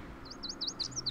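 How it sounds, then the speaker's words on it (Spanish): Small birds in a video game give a quick run of high, clear chirps, about six short tweets in a second over a steady low ambient hum. "Aquí están los pajaritos"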